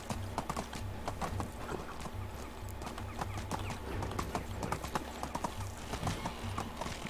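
Horse hooves clip-clopping in Medieval Dynasty, a brisk, regular trotting rhythm of sharp hoof strikes that holds steady and close throughout, with a faint voice in the background at moments.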